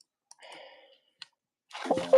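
Two sharp, isolated computer mouse clicks are separated by a soft tonal murmur, with a louder burst of sound at the end.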